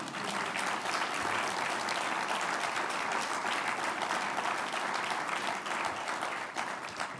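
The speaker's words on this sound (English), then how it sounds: "we can start with the applause right now" Audience at the Atlanta Press Club Hall of Fame ceremony breaks into sustained applause, a steady moderately loud wash of many hands clapping in a hall, unbroken and with no speech over it.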